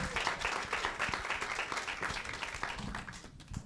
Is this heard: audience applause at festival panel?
yes